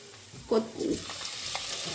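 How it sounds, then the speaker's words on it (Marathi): Mustard seeds and cumin sizzle as they are sautéed in a pan, a soft steady crackle with a brief louder stir or spatter near the start. "राई आणि जिरा आपल्याला हे काय करायचं वहिनी परत परतून घ्यायचं आहे"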